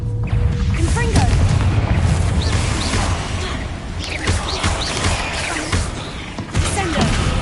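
Spell blasts and booms from a video game fight. The sound is loud and continuous, with rumbling impacts and crashes layered densely over one another. A voice calls out across the action.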